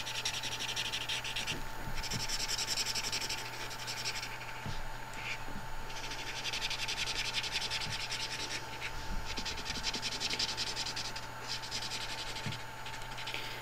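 Felt-tip ProMarker pen strokes rubbing across paper while colouring a rubber-stamped Wellington image, a steady close scratching texture with short repeated passes, alone, over a faint constant hum.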